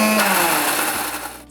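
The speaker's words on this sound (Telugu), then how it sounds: "దాని తర్వాత మన నువ్వుల్ని కలిపి ఒక్కసారి మిక్సీలో తిప్పుదాం" A mixer grinder whirs loudly as it grinds sesame seeds with dried red chillies, cumin and salt, a steady high motor drone that winds down toward the end.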